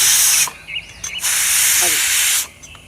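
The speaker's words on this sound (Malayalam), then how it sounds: "അപ്പോൾ നമ്മുടെ കുക്കറിൽ വിസിൽ വന്നിട്ടുണ്ട്." Pressure cooker whistle hissing loudly as it releases steam while cooking beef for pickle, a continuous bright rush with brief dips and a fainter whistle, then cutting off near the end.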